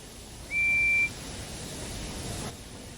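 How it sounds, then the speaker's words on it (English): A single short, shrill train guard's whistle blast in a video game, pure and piercing, over a steady low rumbling background that drops off shortly after. "the guard's whistle blew, and the two engines set off"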